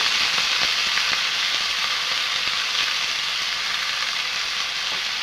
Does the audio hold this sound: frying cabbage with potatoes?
yes